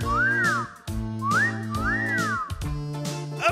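A parrot imitating a whistle: a few clear, arching whistled notes, close and loud, repeated over background music.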